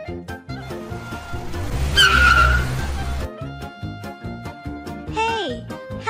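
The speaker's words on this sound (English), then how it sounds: "Drive fast now." Animated cartoon car speeding along with a brief tire screech and revving engine, mixed with music and sound effects, while characters talk and a final rising whoosh cuts through.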